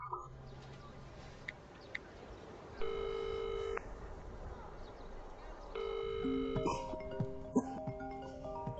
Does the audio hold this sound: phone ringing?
yes